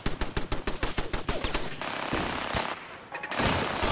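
Rapid automatic gunfire in the video game Fallout 4, a fast burst of loud close shots at first, then a dense continuous roar of firing with a few more scattered cracks near the end.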